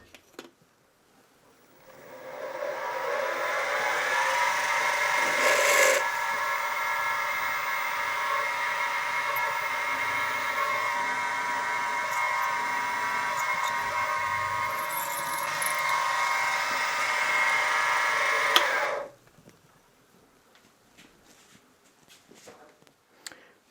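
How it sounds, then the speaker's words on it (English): Sustained high whirring of a tapping-size drill boring through metal for a hit-and-miss engine crankshaft bearing, steady for around sixteen seconds with a few sharp squeaks before stopping abruptly. "And now with the drill, tapping drill size."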